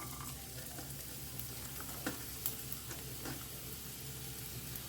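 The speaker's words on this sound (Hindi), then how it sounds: "ओके, तो अब इसमें डालते हैं प्याज। एक प्याज को ना मैंने फाइन चॉप कर लिया है।" Finely chopped onion fries in hot oil over a high flame, a steady close crackling sizzle that hisses evenly throughout, with a couple of faint ticks and no voices.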